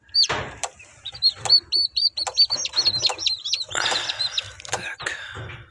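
Newly hatched chicks from an incubator chirping, rapid high-pitched peeps in quick bursts, close and clear, with a few soft lower clucks mixed in.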